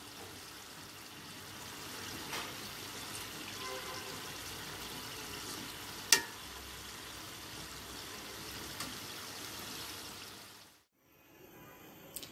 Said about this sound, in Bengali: এইভাবে করে আমি বাকি পিঠাগুলো ভেজে নেব